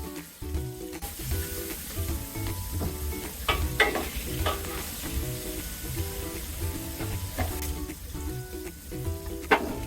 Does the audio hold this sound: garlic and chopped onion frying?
yes